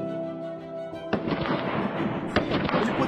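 Gunshots fired during a shooting academy drill, with one sharp crack and a second loud report a second later over a dense, noisy background, heard fairly close.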